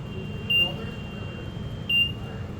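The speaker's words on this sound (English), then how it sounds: "So now the beep should match the light that you can correlate." Two short, high electronic warning beeps from an order picker, about a second and a half apart, standing out clearly over a low, steady background hum.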